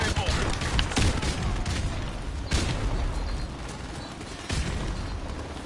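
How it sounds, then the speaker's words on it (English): Dense, continuous battlefield noise from Call of Duty 4, with repeated grenade blasts and bursts of gunfire stacking into a loud, rumbling din and several sharper explosive hits standing out. "Grenades! More grenades!"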